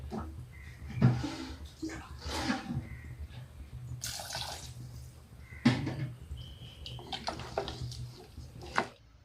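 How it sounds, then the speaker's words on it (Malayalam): Water poured into a simmering raw plantain curry, a splashing, trickling pour that comes and goes in short bursts under a speaking voice. "കുറച്ചും കൂടി വെള്ളം ഒഴിച്ച് കൊടുക്കുക"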